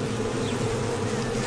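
Dense, steady buzzing of many honeybees crowding a hive entrance, close and loud, a continuous drone with no talk.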